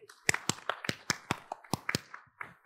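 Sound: audience applause

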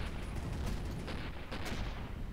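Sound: explosions in the video game Avorion

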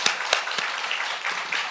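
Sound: applause

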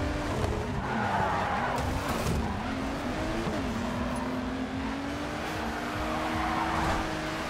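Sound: racing cars skidding in the video game GRID 2

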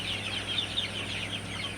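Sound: Sonali super hybrid chickens clucking on a farm

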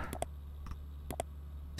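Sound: mouse clicking in the game KinitoPET

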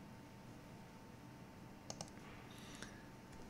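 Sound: computer mouse clicking

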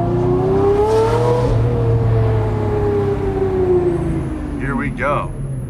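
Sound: car engine revving

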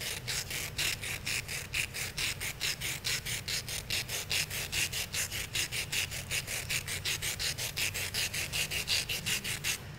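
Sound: charcoal stick being sharpened on sandpaper

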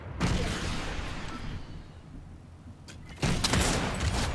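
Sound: gunfire in the video game Fortnite

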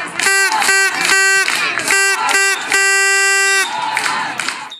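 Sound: fans cheering in the stands at a sports match

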